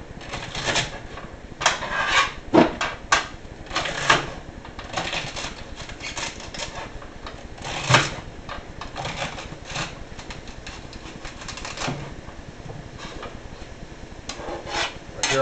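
A knife chops through a celery stalk on a cutting board in a home kitchen, a run of close, sharp irregular cuts and scraping strokes for about fifteen seconds while making creamy white chicken chili.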